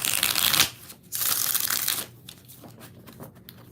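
Tarot cards shuffled by hand in close, loud bursts of riffling and slapping, two long runs followed by softer handling, with no talking.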